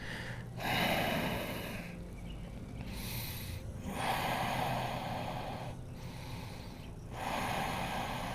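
Slow, deep breaths during a yoga hamstring stretch: a few long inhales and exhales, close and breathy, rising and falling in a steady rhythm with no talk.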